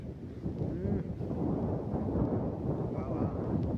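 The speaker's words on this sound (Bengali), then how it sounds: "বিশ্বাস না হলে আপনারা তো শব্দ পাইতেই আছেন যে এত বাতাস।" Strong gusting wind from Cyclone Remal, a dense steady roar with buffeting against the microphone throughout, loud and close with no clear speech over it.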